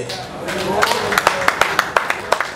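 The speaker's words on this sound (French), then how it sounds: "Un applaudissement frénétique pour la fondation Belelou Monde." Scattered hand claps from an audience at a foundation celebration event, a handful of sharp claps in an uneven rhythm rising over a murmuring crowd, with people talking underneath.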